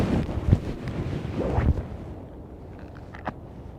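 Gusting wind at Dublin Airport on a windy morning, a rough buffeting roar on the microphone with louder thumps early on that eases into a lighter rush.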